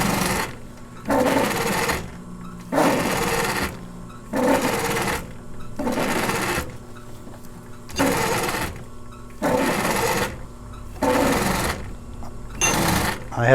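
An upholstery sewing machine fitted with a welting foot sews cording in repeated loud, close bursts of rapid stitching, each lasting about a second, separated by short pauses with faint handling noise.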